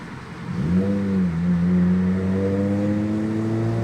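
A Mazda RX-8 sports car engine revs up and holds a steady, droning pitch, loud and close, with no talking.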